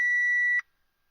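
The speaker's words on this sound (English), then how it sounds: "We get the usual beep" A single clear electronic beep from a Vpecker E1 scan tool on an Audi A4, steady and high-pitched, lasting about half a second before cutting off to silence.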